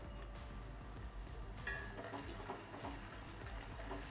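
Urad dal tipped into a hot pan of tempering for curd rice and stirred, with soft scraping, light clinks of a spoon against metal and a faint sizzle, quiet and close.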